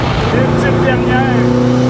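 A Factory Five 818C, a kit-built road-legal race car, drones with a steady engine note that builds gradually, heard from close by with a voice over it.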